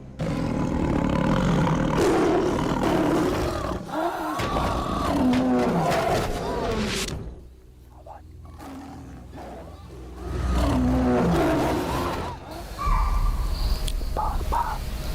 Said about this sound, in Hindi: बार बार ग्राउलिंग की आवाज आ रही है। इसका मतलब यही है कि टाइगर आस पास ही है